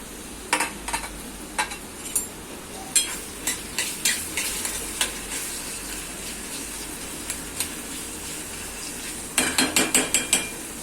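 Onion with ginger-garlic paste and chili paste sautéing in a heated kadhai for Marathi methi pithale, a steady sizzle punctuated by sharp scraping and stirring clatters of a spoon against the pan, denser bursts near the end.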